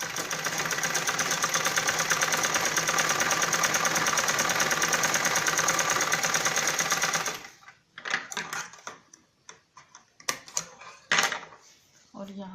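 A sewing machine stitches a balloon salwar in a fast, steady buzzing run for about seven seconds, then stops, followed by scattered handling clicks and light talk.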